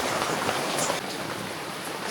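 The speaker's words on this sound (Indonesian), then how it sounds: "Itu hujan deras ini bukan dari krimis" Heavy rain pours down on a hiking trail at Bukit Kelir, Purbalingga, a dense, steady hiss with no voices.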